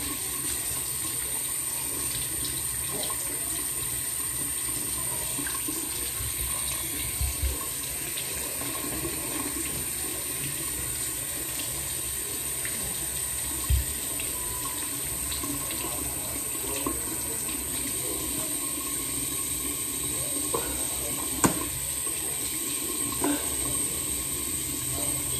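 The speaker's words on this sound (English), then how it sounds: "Waiting for the water to get hot." Water runs steadily from a bathroom sink tap while it heats up, a constant hiss and splash held at an even level for the whole stretch, with no talking.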